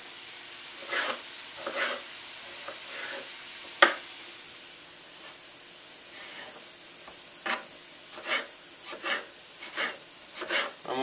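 A knife cuts a sweet potato into thin shoestring pieces on a board with quick, soft, scraping strokes. A steady background hiss runs underneath and a sharper knock sounds midway.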